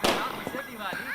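A firecracker bursts loudly at the start, followed by crackling and bangs from festive fireworks, with people talking over the noise.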